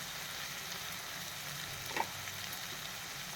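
Asafoetida sizzles in hot oil for tempering, giving a faint, even frying hiss with a small crackle partway through; no voices.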